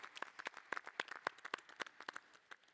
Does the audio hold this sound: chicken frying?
no